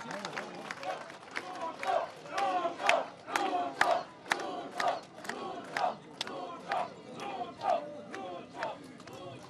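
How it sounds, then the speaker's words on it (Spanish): Crowd at a Bolivian presidential ceremony in San Lorenzo cheering and chanting in rhythmic bursts about once a second, loud and sustained, with voices shouting throughout. "Lo recibimos con un fuerte aplauso"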